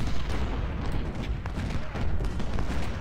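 Civil War artillery and musket gunfire in Ultimate General: Civil War battle, a dense rolling barrage of booms and crackling shots layered together, loud and continuous.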